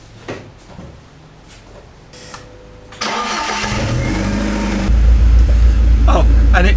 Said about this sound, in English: we'll actually set the car running and squeeze the hoses and keep putting more in